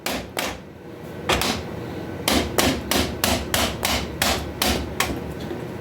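A hammer knocks at old, long-seized bolts on the rear end of a barn-find Yamaha Virago motorcycle, landing about a dozen sharp metallic blows, first scattered and then in a quick steady rhythm, close and loud.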